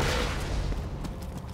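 Bazooka blast in Borderlands 2, a loud, dense burst of explosive noise that fills the whole clip with a rumbling, crackling body and no talking.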